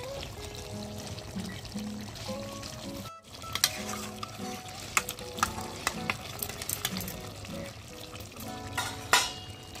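Chicken kosha sizzling and frying in a pot over a wood-fired clay stove, with repeated scraping and clinking of a spoon stirring, close and fairly quiet, a brief pause partway through.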